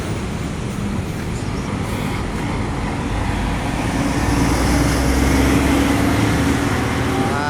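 Steady city street traffic rumbles close by as a bus passes, a dense broadband roar of engines and tires that swells slightly louder in the second half, with no speech.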